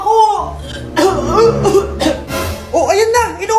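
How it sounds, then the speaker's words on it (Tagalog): An elderly man of about 75 coughs in a short burst amid lively, laughing conversation, with chuckling and speech around the cough. "Oh, ayan na! Inuubo na!"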